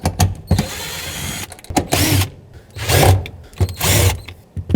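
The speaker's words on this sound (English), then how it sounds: "Now I'm using an electric tool now." A handheld electric power tool whirs in short repeated bursts while backing out the 10 mm screws on the fuel pump cover of a 2003-2008 Toyota Corolla, each burst loud and close with brief pauses between.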